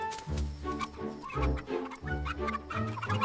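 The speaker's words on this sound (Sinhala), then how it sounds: "ගමරාලගේ කුකුල් කූඩුව පිරෙන්න කුකුලෝ හිටියා." Chickens cluck in a village chicken coop in a folk tale about a fox, a series of short, choppy clucks in quick bursts, fairly close and moderately loud.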